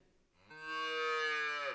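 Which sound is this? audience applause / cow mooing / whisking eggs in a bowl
cow mooing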